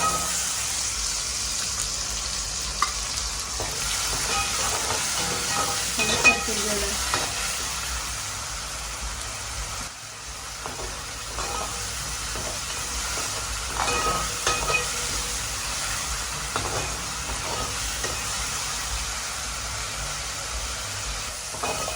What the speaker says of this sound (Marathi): अद्रक लसूण आपण चांगलं परतून घेतलं